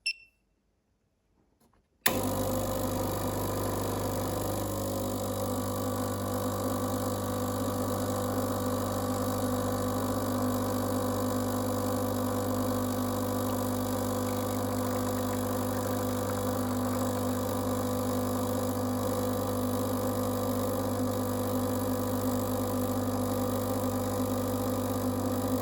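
After a couple of seconds of near silence, a Gaggia Classic Pro espresso machine pulling a shot kicks on with a loud, steady, buzzing pump hum that drones on unchanged to the end.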